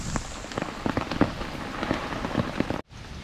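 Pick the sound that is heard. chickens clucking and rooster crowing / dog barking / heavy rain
heavy rain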